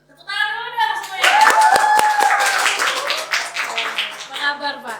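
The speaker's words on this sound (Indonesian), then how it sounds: "Tepuk tangan dulu dong semuanya." Audience clapping at an Indonesian futsal event, a short burst of hand claps rising after a speaker's voice and continuing under lively talk and chatter from a host.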